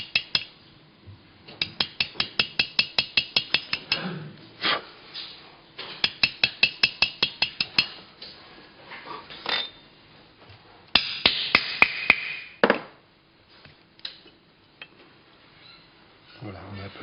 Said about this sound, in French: Je prends mon burin rond. Et là, on va commencer à creuser le métal en enlevant des copeaux.